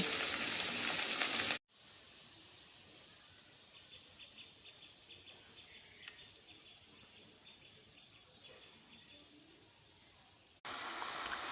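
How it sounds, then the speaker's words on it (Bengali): Small chuno fish fry in a pan with a faint, steady sizzle and light crackle, bracketed by brief louder bursts at the start and end. "এখানে চুনো মাছ ভাজা হচ্ছে।"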